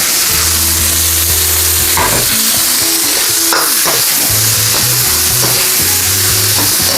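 Pork pieces fry in a hot pan with vegetables, a loud, constant sizzle with the scrape and clatter of stirring throughout.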